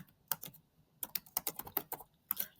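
Fingers type on a computer keyboard, entering tasks into a research journal: quiet, close, irregular bursts of clicky keystrokes with short pauses between runs.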